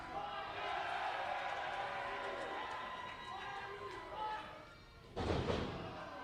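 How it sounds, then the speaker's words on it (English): A wrestler's body slam hits the ring in front of a noisy Toronto crowd, a single heavy thud near the end rising above the steady roar of the audience. "There's a second body slam from Psycho Mike."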